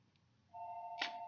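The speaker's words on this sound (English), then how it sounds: "I hate it when I'm in the middle of a broadcast and the phone rings." A phone tone starts partway in and holds as a steady, faint electronic ring, with a brief click over it near the end.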